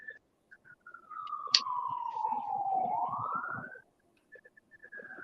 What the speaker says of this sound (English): I don't know if y'all heard that, but an ambulance came, over yonder.